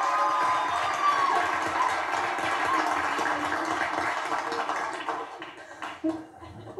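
Studio audience at a 1998 Newlywed Game taping, a broad wash of clapping and crowd cheering that holds loud and steady, then thins and fades out near the end.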